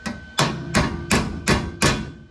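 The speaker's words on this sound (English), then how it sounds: "This is a body working hammer." A body working hammer bangs a square-body truck floor pan into place, six loud, evenly spaced metallic strikes ringing close and alone.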